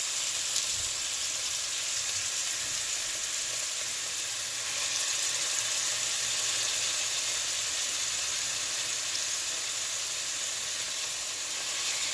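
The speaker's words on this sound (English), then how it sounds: "I'm getting ready to put my meat into the pan" Steady, bright sizzling of steak frying in hot oil in a skillet, close and continuous, with no talking.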